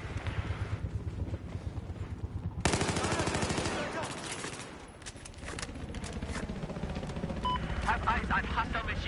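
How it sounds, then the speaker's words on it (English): Rapid machine gun fire and scattered gunshots in the Battlefield 4 Hardline Getaway DLC game, sustained bursts rattling on and off with a steady engine-like drone and voices underneath. "Have eyes on hostile machine gun."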